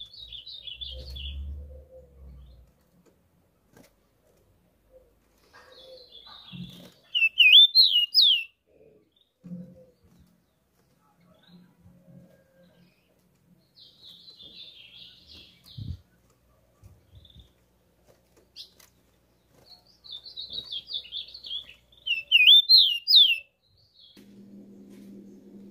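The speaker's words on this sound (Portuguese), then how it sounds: "o passarinho já tá começando a cantar aqui" A rufous-collared sparrow (tico-tico) sings from indoors in short bursts of high, thin whistled trills, repeated several times with quiet gaps between phrases, alone with no talk.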